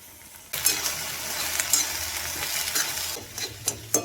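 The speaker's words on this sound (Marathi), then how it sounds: "तेलात थोडेसे आपण भाजून घेऊया भेंडे." Okra hits hot oil in a wok for a Malvani-style bhindi dish and breaks into loud, continuous sizzling, punctuated by sharp scraping and clattering stirring strokes, with no voices.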